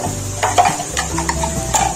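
Whole cumin seeds sizzle in hot oil for black chana salan with a brief, crackling fry and light spoon clinks against the pot.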